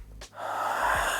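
A person takes a single slow, airy inhale during a yoga breathing exercise, heard close and alone after a short sniff.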